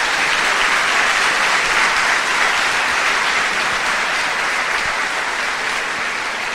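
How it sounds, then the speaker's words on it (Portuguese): A church congregation applauds during a sermon. Thick, continuous clapping holds steady throughout and fades slightly near the end. "Dê uma salva de palmas para o nosso Senhor Jesus."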